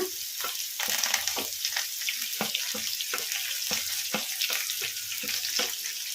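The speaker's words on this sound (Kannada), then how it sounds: "ಉಳ್ಳಾಗಡ್ಡಿ ಜಾಸ್ತಿ ಫ್ರೈ ಆಗೋದೇನು ಬೇಡ, ಲೈಟ್ ಬ್ರೌನ್ ಕಲರ್ ಬರೋವರೆಗೂ ಫ್ರೈ ಮಾಡ್ಕೊಂಬಿಡೋಣ" Onions, green chilies and curry leaves fry in a pan with a steady close sizzle, broken by repeated scraping strokes of a stirring spoon; no one speaks.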